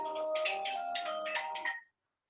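A mobile phone ringtone chimes during a church sermon, a bright repeating electronic melody in short bursts lasting under two seconds before cutting off abruptly into silence.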